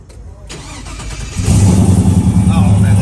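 A hot rod engine starts with a push-start key fob: a brief crank, then the engine catches and settles into a loud, rumbling idle close by, with people talking around it.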